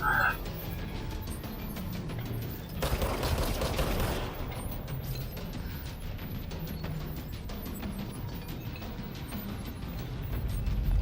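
Rapid automatic gunfire in the video game Control, a dense crackling burst that swells loud for about a second near the start amid continuous game noise and scattered shots.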